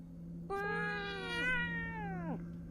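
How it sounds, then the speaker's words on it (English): A cat in the horror video game Fears to Fathom, Episode 5 Woodbury Getaway, lets out one long, drawn-out meow that bends downward at the end over a low steady hum. "cat है भाई"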